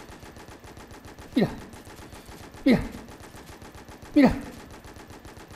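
Weapon fire in the shooter game Pixel Gun 3D comes as three sharp, evenly spaced shots over a low in-game hum, with someone speaking briefly.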